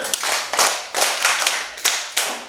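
A class of children claps for a classmate during a school lesson, giving several short, uneven bursts of hand claps in quick succession, close and fairly loud, with no talking over them.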